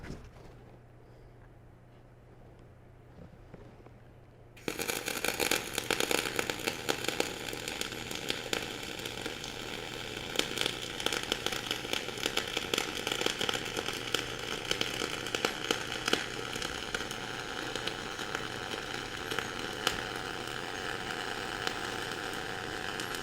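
Flux-core arc welding a multi-pass T joint, a steady loud crackling sizzle that starts abruptly after a few seconds of near quiet and then holds continuously close by.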